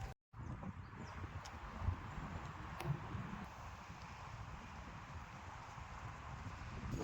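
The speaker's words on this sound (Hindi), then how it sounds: "अभी ऊपर से सामान छोड़ने के बाद घोड़े नीचे आ रहे हैं।" Pack horses that carry building materials come downhill on a mountain path in Kullu, scattered hoof clops against a steady breezy outdoor background.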